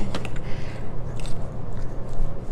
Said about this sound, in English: We're going to spoon and stir this together.